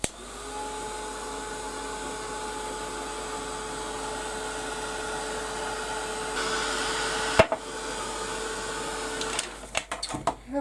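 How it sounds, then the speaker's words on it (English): A heat gun blows steadily while drying a Canvas Corp craft project. It makes an even, close whirring hum that runs for several seconds, then cuts off with a few handling clicks near the end. "with my heat gun."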